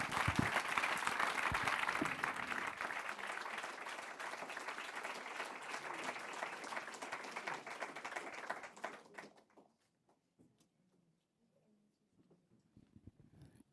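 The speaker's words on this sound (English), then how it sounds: "I think we can give them a warm round of applause." Conference audience applauding at an infrastructure think tank event, a dense steady round of clapping that carries for about nine seconds, then cuts off into near silence with faint taps and stirrings.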